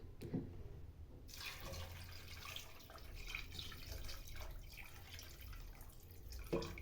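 Water runs steadily into a pot of chicken pilau with ginger, garlic and salt, a faint continuous splashing stream with a couple of soft knocks at the start and end.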